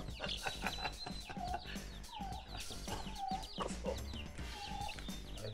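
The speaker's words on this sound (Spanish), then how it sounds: "Escena de la gallina con sus polluelos." A hen with her chicks clucks repeatedly close by, soft throaty calls mixed with other birds' chatter, over a steady farmyard background in the Sierra de Puebla.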